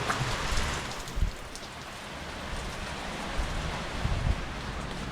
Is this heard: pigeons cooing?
no